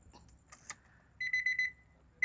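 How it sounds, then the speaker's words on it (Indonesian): Key-in warning chime of a Honda Estilo: a short series of four quick electronic beeps, fairly close and clear, followed by one more beep at the end after faint clicks of the key. "Jadi pada kunci kan kalau pada saat kuncinya masuk dia langsung bunyi."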